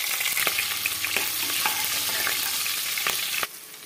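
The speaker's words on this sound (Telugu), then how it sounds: "ఇలా పచ్చిమిరపకాయలు వేగాక కట్ చేసుకుని ఉల్లిపాయ ముక్కలు ఇందులో వేసుకోవాలి." Chopped green chilies and curry leaves sizzle steadily in hot oil for a spicy mutton curry, with a few stirring scrapes before the frying quiets near the end.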